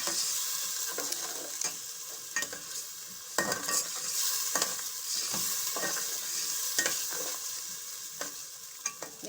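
Fish biryani masala stirred and fried in a pan, a steady close sizzle with repeated spoon scrapes and stirring knocks throughout, no voices.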